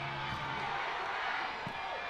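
A packed baseball stadium crowd keeps up a dense, steady roar of cheering, with faint whoops rising out of the continuous wash of noise.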